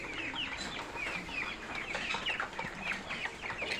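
Broiler chickens clucking in a flock, a steady overlapping chorus of short repeated clucks at moderate distance, with no talking.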